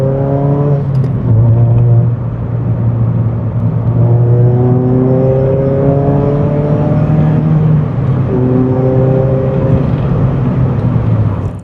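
A new-shape Mazda MX-5 with just over 200 brake horsepower accelerates hard through its gears, its loud engine note climbing steadily in pitch and dropping back at each shift, close and without talk.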